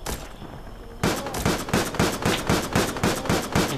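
Luger pistol gunfire in the World War Polygon video game: after a quiet second, a rapid, evenly spaced string of sharp shots cracks out, loud and close, about four per second.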